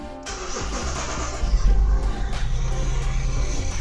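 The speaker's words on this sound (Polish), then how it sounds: "możemy odpalić samochód, to nie jest problem" A car engine starts and settles into a steady running rumble inside an auto electrics workshop during diagnostics on air suspension, loud and close with no talking.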